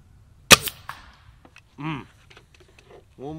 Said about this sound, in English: I can actually hear the pellet go through the air